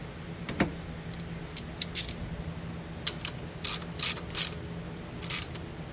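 A nut is snugged down on the alternator of a 2000 Subaru Forester, with scattered metallic clicks and ratchet-like ticks from the tool, close and fairly quiet, several short bursts with pauses between them.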